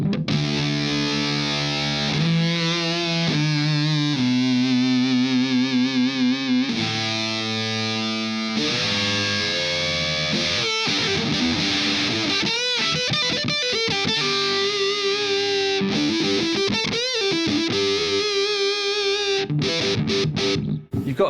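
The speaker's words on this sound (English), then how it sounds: "so we just switched the pedal to the Fur Coat Fuzz, vintage fuzz. And it's an octave fuzz" Electric guitar through an Orange Fur Coat Fuzz, a vintage-voiced octave fuzz pedal, played alone with loud, gnarly saturated tone, sustained chords and bent notes with a buzzing upper octave over about twenty seconds.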